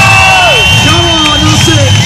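A crowd at a monster truck show at VW BugJam 26 cheers loudly and continuously, with shrill whoops and whistles rising over the roar of voices.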